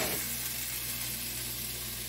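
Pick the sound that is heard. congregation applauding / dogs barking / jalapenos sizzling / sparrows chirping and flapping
jalapenos sizzling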